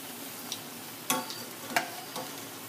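Homemade zeppole frying in a pan while being flipped, with a low steady sizzle broken by a few sharp clatters and scrapes of the utensil against the pan, close by and without talking.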